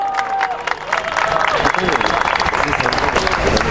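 Guests at a Vedic wedding ceremony clap loudly to welcome the bride and groom, a thick, continuous burst of applause with crowd voices mixed in.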